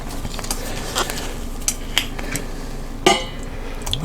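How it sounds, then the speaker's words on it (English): A small, low metal rack set into an empty pressure cooker pot gives several light metallic clinks and taps, scattered and close, with a slightly louder knock near the end. "I'm going to use a small rack, real small, just to keep the meat off of the bottom."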